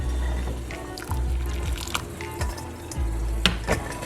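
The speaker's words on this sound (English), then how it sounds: "put a little bit more of water in it" Water is poured into a pot of Guyanese black-eyed peas cook-up rice, heard as splashing bursts and clinks over a faint simmering sizzle.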